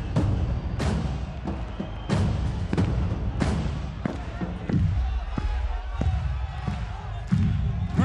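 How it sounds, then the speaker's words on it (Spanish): A large crowd at the Red Bull Batalla 2023 international final, a freestyle rap battle event, claps along in a steady rhythm, sharp hand claps repeating about every two-thirds of a second over a loud, busy arena din. "todos me van a acompañar con las palmas"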